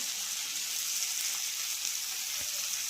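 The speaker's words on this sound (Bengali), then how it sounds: "আমের টুকরোগুলো দিয়ে এবার একটুখানি নাড়াচাড়া করে নেব তেলের মধ্যে" Raw mango pieces sizzle in hot oil with tempering spices for a Bengali chutney, a dense, even frying hiss heard up close with faint stirring touches and no voices.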